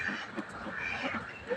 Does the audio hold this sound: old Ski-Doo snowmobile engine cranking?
no